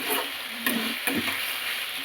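Potatoes fry in a pan with onion, tomato and capsicum, a steady close sizzle broken by a couple of brief stirring scrapes.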